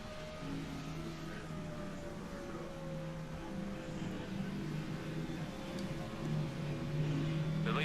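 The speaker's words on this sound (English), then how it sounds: "So let's go in car for the sounds of NASCAR." In-car engine of a NASCAR race car in the NASCAR 15 video game at the Kobalt 400, a steady loud drone with a slowly shifting pitch that runs without a break and holds at the same level.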